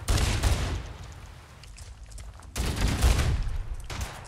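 Bursts of heavy gunfire from overpowered Halo weapons modded into Fallout 4, loud dense volleys that fade briefly then erupt again in a second rolling barrage.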